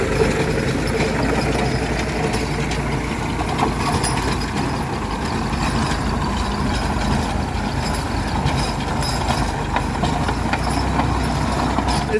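A tractor engine idles in a field where straw stubble lies, a loud, steady diesel rumble held at constant level throughout with no break and no speech.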